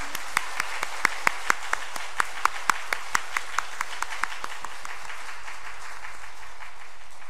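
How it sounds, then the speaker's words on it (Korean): Congregation in a Korean church service applauds to welcome the visiting Yeongcheon mayor: a short burst of scattered, fairly sparse claps that thin out and fade after about four seconds, leaving quiet room tone. "우리가 박수로 환영하겠습니다"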